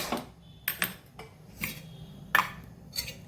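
A frying pan set on a gas stove while red rice dosa is being prepared, heard as a series of separate metallic clinks and taps, close and moderately loud, with quiet pauses between.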